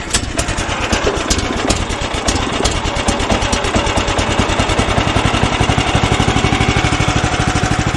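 An HM126 sawmill's engine idles while warming up, thudding out a loud, even, rapid chug that holds steady throughout with no voices.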